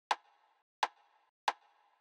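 A pitched-down RKU rim shot sample strikes three times at a steady pace, each a woody crack with a brief ringing tail, quiet and alone.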